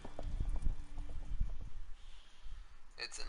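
Horse hoofbeats in The Witcher 3 as riders set off in a chase, a rapid run of clip-clop thuds under game chatter, easing off before a brighter clatter near the end.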